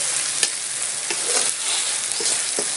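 Beans stir-frying with turmeric powder in a pan, a loud close sizzle with quick scraping and stirring clatters scattered throughout.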